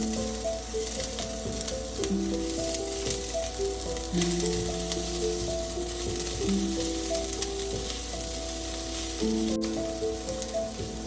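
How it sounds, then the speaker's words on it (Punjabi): Onion with chillies and spices frying in a pan for a karela sabzi, a constant close crackling sizzle with occasional stirring, while music plays underneath. "ਹੁਣ ਅਸੀਂ ਇਹਦੇ ਵਿੱਚ ਮਿਰਚ ਪਾ ਦਿੰਨੇ ਆ ਨਾਲੇ ਮਸਾਲੇ ਪਾ ਦਿੰਨੇ ਥੋੜੀ ਦੇਰ ਮਿਰਚ ਨੂੰ ਭੁੰਨ ਲੈਂਦੇ"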